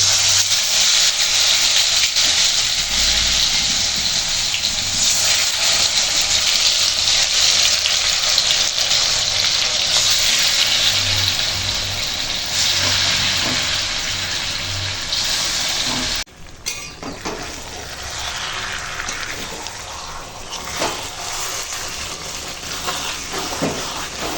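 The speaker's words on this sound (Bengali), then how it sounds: "এখন আমি কড়াতে সাদা তেল দিয়েছি তার মধ্যে দিয়েছি লক্ষ্মী ঘি দিয়ে এখন গরম হয়ে গেছে এখন আমি মাংসটা ছেড়ে দেব তেলের উপর" Chicken pieces dropped into hot white oil mixed with ghee in a wok, giving a loud, steady broadband sizzle that runs nearly unbroken, briefly dropping out once before the frying hiss resumes slightly softer.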